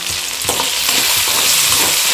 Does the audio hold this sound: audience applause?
no